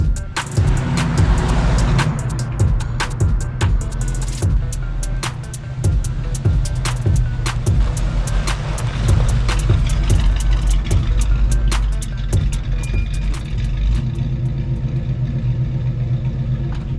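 A 1986 Chevrolet Silverado truck runs nearby, a low steady engine rumble punctuated by repeated sharp clicks and knocks throughout, without speech.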